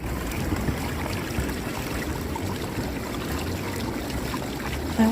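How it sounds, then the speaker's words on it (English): Ocean water at Myrtle Beach churns and laps in a continuous low wash, fairly soft and steady with no speech. "also have these water sounds on my channel to help promote relaxation"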